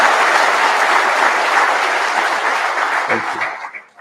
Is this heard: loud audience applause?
yes